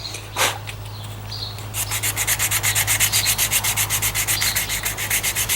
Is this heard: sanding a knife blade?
yes